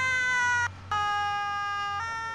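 Fire brigade siren at an outdoor rally and car meet, a loud steady two-tone wail with a brief dropout before it resumes and shifts pitch near the end.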